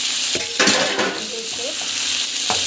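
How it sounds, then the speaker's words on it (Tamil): Loud sizzling of vegetables sautéing in a pan with turmeric and coriander powder, with a few sharp scrapes of a spatula stirring the frying food. "ஸோ நல்லா வந்து வதக்கிட்டுக்கோங்க."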